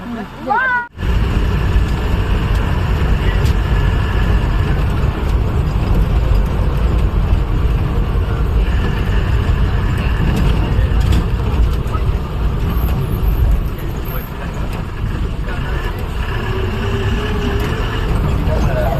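A safari vehicle engine rumbles steadily and close in the Dhikala zone of Jim Corbett, with a sharp thump near the start and muffled voices underneath throughout.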